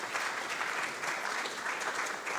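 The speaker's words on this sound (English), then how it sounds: "Let's applaud for the university." Applause from a conference audience at a university academia-industry event, with steady, full clapping throughout and a slight dip near the end.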